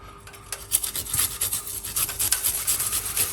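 Fresh ginger root is rubbed against a grater in a steady run of quick, rasping strokes, close and fairly loud with no talking.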